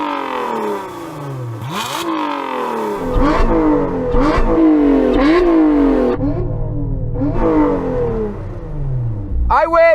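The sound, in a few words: supercharged V6 car engine revving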